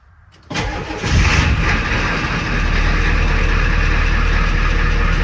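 A Ford F-250 pickup truck engine cranks and roars to life, then settles into a loud, steady rumbling idle close by.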